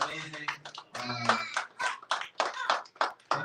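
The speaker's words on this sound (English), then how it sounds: "Let's also give a round of applause for the engaging audience today." A bookstore audience at a math talk claps in a round of applause, the scattered clapping sitting under a speaker who keeps talking over it.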